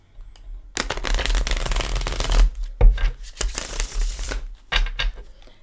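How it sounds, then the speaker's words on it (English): A deck of tarot cards shuffled close by in several riffling bursts, crisp papery rattles separated by brief pauses. "I know some of you said you like hearing the cards being shuffled."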